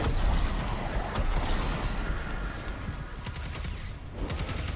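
Destiny 2 combat with a grenade and Witherhoard shots: a dense, loud rattle of crackling gunfire and bursts that runs through without a break, several sharper hits near the end, with no talk.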